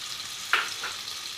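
Chopped tomatoes and green chillies drop into a hot frying pan for an egg curry, giving one brief close burst of sizzle that fades into a faint steady fry.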